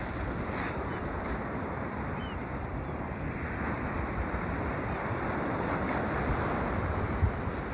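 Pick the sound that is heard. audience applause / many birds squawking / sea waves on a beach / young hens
sea waves on a beach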